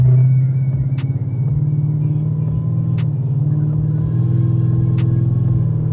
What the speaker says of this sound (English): Let's put the car in gear and see if it's misfiring.